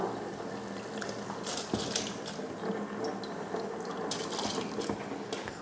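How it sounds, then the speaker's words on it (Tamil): Soaked rice tipped into a pot of boiling water for biryani, giving a steady wet, bubbling churn with splashy patters and small drips throughout, close and continuous with no talking. "இதில் ஊற வச்ச அரிசி சேர்த்துடலாம்."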